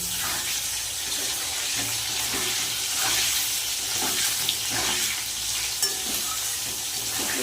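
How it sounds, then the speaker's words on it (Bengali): Potato pieces fry in hot oil for a katla fish curry, giving a steady close sizzle and hiss with occasional light stirring and no voices. "আলুগুলো একটু ভেজে নেব"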